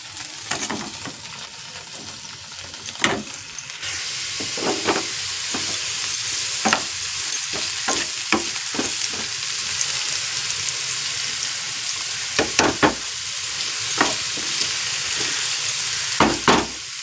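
Potatoes frying in a pan give off a steady, loud sizzle throughout, with scattered sharp clicks and scrapes from stirring.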